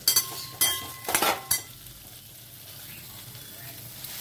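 Beetroot and potato are stirred in a pan with panch phoron, a few sharp clattering spatula scrapes up front, then a soft steady sizzle, with faint background voices.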